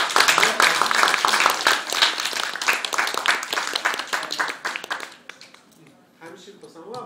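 An audience at a Facebook summit gathering in Tokyo claps in a dense burst of overlapping hand claps that thins out and fades after several seconds, with talk around it.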